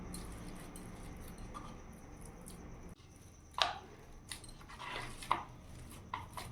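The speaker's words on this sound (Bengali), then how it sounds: "আলুগুলোকে আমি এইভাবে চটকে নেব।" Small boiled potatoes being mashed by hand, giving soft, close squishing and squelching sounds in irregular bursts over a quiet kitchen background, with a few sharper squelches standing out.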